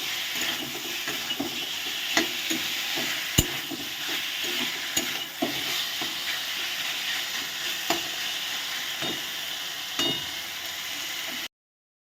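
Fried potato and green banana pieces stirred with spices in an oiled pan, a steady close sizzle with repeated scraping knocks of the spoon against the pan, no talking.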